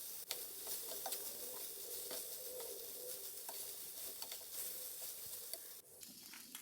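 Paneer fried rice being mixed in a pan, a steady low sizzle with faint scattered scraping taps from stirring, close but quiet.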